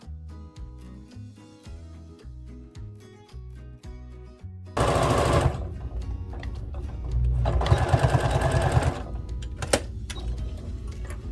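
A sewing machine stitches through a layered quilt in fast, rhythmic mechanical pulses, which give way to a louder, denser whirring run with a few sharp clacks, close up and with no talking.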